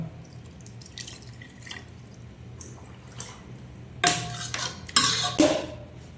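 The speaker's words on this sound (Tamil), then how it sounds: "இன்னும் தண்ணி ஊற்றிக்கலாம்" Water splashes and drips into a pot of mutton gravy, a few loud bursts of pouring near the end after quieter kitchen clatter, close and without talk.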